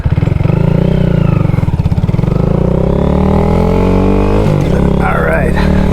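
A 2022 Honda Grom motorcycle engine pulls hard and close, its throttle climbing steadily in pitch through a loud, continuous rev with a gear-change dip near the end.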